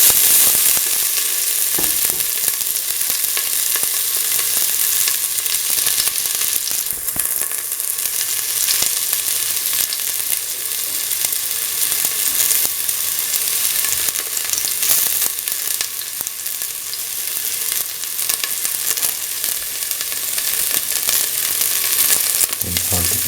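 Shallots and garlic sizzle steadily in hot oil in a pan, a dense, even crackle with occasional stirring scrapes, close and continuous with no voices.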